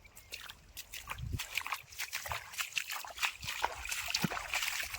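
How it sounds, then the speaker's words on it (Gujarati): Irrigation water trickling and sloshing out into a field channel, a steady close gurgle with small splashy bursts throughout, no talk. "જ્યાં હોય ને પાણી નીકળે છે"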